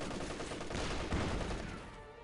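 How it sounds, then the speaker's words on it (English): A ZiS field gun artillery barrage in Company of Heroes 2, a dense run of loud overlapping shell blasts and crackling impacts that swells near the middle and eases off toward the end. "Yes, we do see the Zis barrage now."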